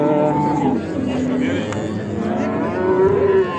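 Cattle at a crowded livestock market in Dormoncha, Uzbekistan, including Simmental cows and heifers, lowing in drawn-out moos over steady crowd murmur and nearby voices, loud and close throughout.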